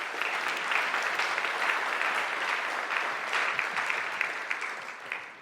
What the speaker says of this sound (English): So, applause.